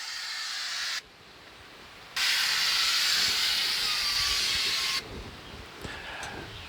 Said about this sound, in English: and I'm going to spray the top twice.